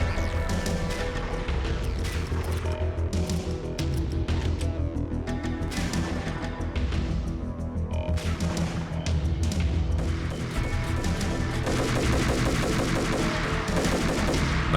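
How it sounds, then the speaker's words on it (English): Sustained bursts of gunfire and heavy shots fill a PC shooter firefight in Max Payne (2001), including a sniper rifle, with dense overlapping reports, crashes and a continuous game soundtrack underneath. "Because that sniper rifle, if it hits you, it does massive damage"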